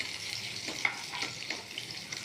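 Bay leaf and cumin seeds sizzle in hot oil for a paneer curry, a steady close crackle with small pops and stirring scrapes, no voices.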